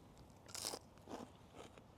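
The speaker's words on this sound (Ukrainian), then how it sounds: "так хрумтить, слухайте" Fried wild crucian carp crunched in the mouth: two or three crisp, close bites with crackly chewing, fairly quiet, with no talk.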